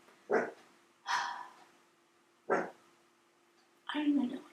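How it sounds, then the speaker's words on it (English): A dog barks four times with pauses between, the last bark longer and rougher, heard fairly close in a quiet room. "don't even know what she's barking at."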